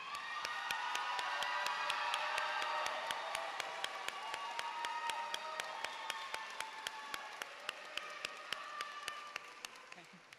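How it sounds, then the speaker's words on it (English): Audience at a Glennville High School graduation ceremony gives the soon-to-be graduates a sustained round of applause with some cheering, while a sharp rhythmic ticking taps evenly throughout. "Let's give our graduates, soon to be graduates, a round of applause."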